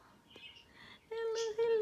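A pet bird gives a few soft chirps and then a loud, clear, sustained whistling call, with a person's hushed voice heard faintly near the start.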